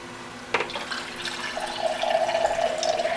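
Filtered water from a Doulton Berkey gravity filter trickles and pours into a container, starting with a brief clunk then a steady, close, moderately loud stream with a light ringing tone.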